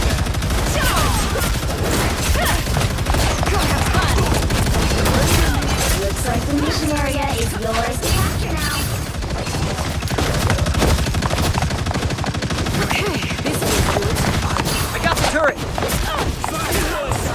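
Rapid, continuous gunfire from a heavy-weapons turret in the Marvel Rivals game, a dense, loud stream of shots sustained throughout, with busy battle noise layered underneath.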